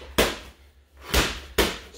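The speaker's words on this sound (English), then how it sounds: "One, two regular slams." Medicine ball slammed onto a gym floor during a cardio workout, three loud, sharp thuds spaced about half a second to a second apart, close and alone.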